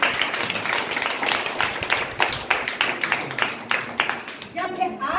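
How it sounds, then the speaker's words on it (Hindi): An audience at a DXN gathering in Gopiganj breaks into a burst of loud, rapid clapping that carries on in uneven waves and fades out near the end, with voices talking under it. "चलिए आप लोग भी एक जोरदार ताली।"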